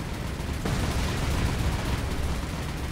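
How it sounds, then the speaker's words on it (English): A torpedo strike in the War on the Sea naval game, Pacific campaign with Japanese navy ships, heard as a sudden loud, dense burst of rumbling blast and crackle that continues as a sustained roar. "There's one torpedo hit."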